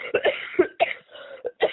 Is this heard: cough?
yes